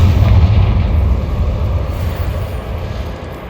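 A Confringo spell blasts in the video game Hogwarts Legacy, a loud booming explosion that hits at once, then rolls and slowly fades as a rumbling tail across the whole stretch.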